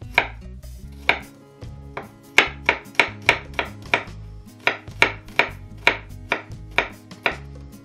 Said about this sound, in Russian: Мелко нарезаем чеснок.